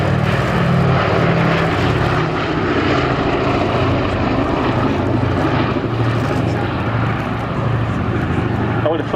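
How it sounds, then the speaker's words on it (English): The Boeing B-17 bomber Sally B drones overhead on its piston propeller engines, a steady heavy throbbing roar that holds throughout, loud and fairly near, with no talking. "This is currently the only B-17 flying"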